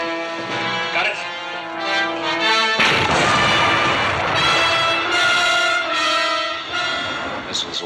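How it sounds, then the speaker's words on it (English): A missile launch bursts in with a sudden loud whooshing roar about three seconds in, cutting across orchestral music and sustaining to the end. "Missile's away, sir."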